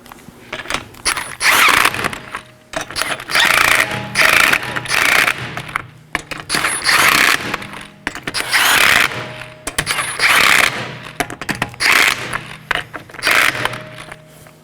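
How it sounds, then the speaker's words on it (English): A ratchet wrench with a 19mm socket tightens sway bar link nuts on a 2018-2024 Chevrolet Equinox. Close, rhythmic clicking comes in repeated bursts of rapid strokes with brief pauses between them. "Now I'm just going to snug these down in a crisscross pattern with my 19mm."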